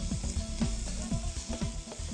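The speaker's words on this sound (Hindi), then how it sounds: "अब लहसुन और प्याज को फ्राइंग पैन में डाल दें। अब आप इनको अच्छी तरह फ्राई करें।" Garlic and onion frying in hot oil in a frying pan, a steady crackling sizzle broken by repeated scraping stir strokes, close and continuous with no talking.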